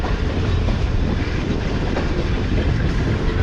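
Subak Raftar railcar train running on the main line toward Lahore, a loud steady rumble of wheels and carriage noise throughout, with no voices.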